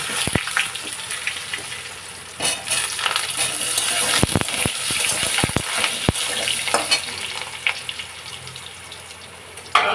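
Potatoes fry in plenty of oil with black cumin, caraway and dried red chillies, giving a steady, loud close sizzle broken by sharp stirring clacks and scrapes, with no talk.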